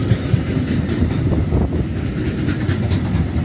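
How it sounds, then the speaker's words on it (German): A DB Cargo class 187 electric locomotive hauls a mixed freight train past a station at Gemünden am Main, a steady loud rumble of rolling wagons with faint rhythmic wheel clatter throughout. "Und hier kommt schon der nächste Güterzug. Also haben wir doch ziemlich Spaß. Eine 187 von DB Cargo."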